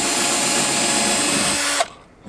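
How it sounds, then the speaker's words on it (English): A power drill whines at a constant high pitch while boring into plastic side trim on a Ford Fiesta ST, running loud and close for about two seconds before cutting off abruptly. "Finally, albeit the drill bit's got stuck."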